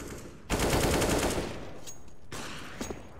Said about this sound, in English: gunfire rains on in, but the spam does good damage